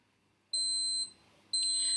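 A kitchen temperature probe alarm goes off while sugar syrup cooks in a pan, giving two loud, high electronic beeps separated by a short pause, heard alone with no talking.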